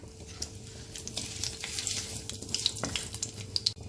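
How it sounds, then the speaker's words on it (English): Bay leaf, cinnamon stick, cloves and cardamom pods fry in hot oil for a Bengali prawn malai curry, giving a close, continuous crackling sizzle with small pops and a stir. "I am going to add the bay leaf, cinnamon stick, cloves and the cardamom pods and fry it for half a minute"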